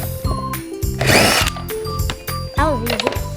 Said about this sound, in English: Okay, take those screws out.